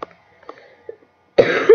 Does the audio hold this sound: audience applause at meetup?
no